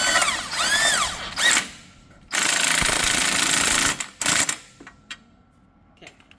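An impact wrench with a wobble extension drives the clutch bolt on a Can-Am Ryker during an upgraded clutch kit install, giving several loud hammering bursts of differing length, close by, separated by short pauses.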